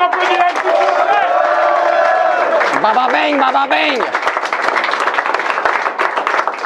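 A crowd at a rap battle between YouTubers applauds and cheers in a steady, loud wash of clapping, with a voice talking and calling out over it through most of the stretch.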